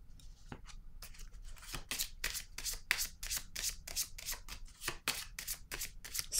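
Tarot cards shuffled and laid down by hand, a steady run of close, crisp papery riffles and slaps with brief pauses between them.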